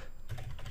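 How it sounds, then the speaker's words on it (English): An email address being typed on a computer keyboard, a short quiet burst of a few close key taps, no voices. "I can type my email here,"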